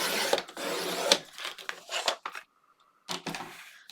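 A paper trimmer blade slides through cardstock for a mini album cover: close, dry scraping and rasping strokes, a short pause with a faint steady tone, then a few more brief cutting scrapes.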